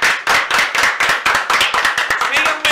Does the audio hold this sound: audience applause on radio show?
yes